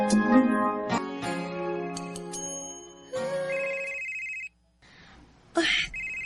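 A telephone rings with an incoming call, a repeating melodic ringtone with tonal bursts, loud and close, followed by a pause and a brief noisy burst near the end.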